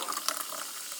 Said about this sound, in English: open up the Mandarin Orange Sparkling Water and pour it into